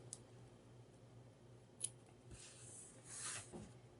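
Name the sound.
scissors trimming twine tails on a mini album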